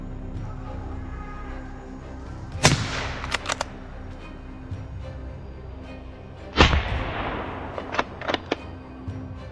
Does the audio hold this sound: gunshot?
yes